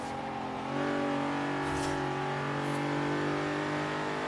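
Supercar engine droning steadily through a night drive in Forza Horizon 3, rising in pitch and loudness after a moment and then holding a strong, even tone with no talk.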